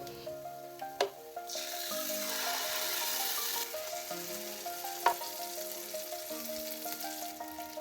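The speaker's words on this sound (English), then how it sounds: "Give it a good stir and then let them fry together for about another 5 minutes" Tomato puree and blended sauce fry in a pot, a soft steady sizzle with occasional clinks and scraping stirs, faint background tones running underneath.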